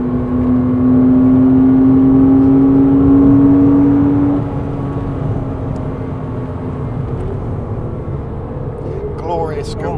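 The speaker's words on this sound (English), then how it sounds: "You can really hear his exhaust, can't you?" A car driving hard on the Goodwood track roars with a loud, droning exhaust note that rises steadily for a few seconds, then drops back to a lower, continuous engine rumble.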